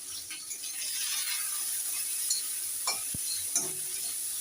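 Chopped onions with a pinch of salt sizzle in hot oil, a soft steady frying hiss, with a few scraping stirs and a metallic tap near the end, fairly quiet and close.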